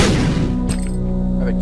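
Loud booming bomb blast in the video game Binding of Isaac, a heavy burst at the start that decays into a ringing tail as game music carries on, close and full.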